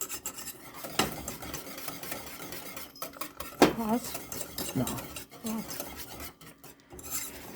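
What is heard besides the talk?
stirring no-bake cookie oatmeal mixture in a pot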